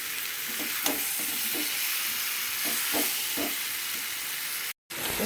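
Green jackfruit and fried potatoes sizzle steadily in a pan as they are stir-fried, a continuous hiss broken by a few soft stirring scrapes, with a brief dropout near the end.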